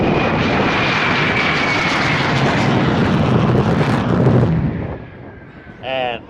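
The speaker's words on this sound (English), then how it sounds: "Listen to the sound of the afterburner and the tires." A jet aircraft roars with afterburner at an air show, a loud sustained broadband blast that fills the first four and a half seconds before dropping away, leaving a brief fainter whine at the end.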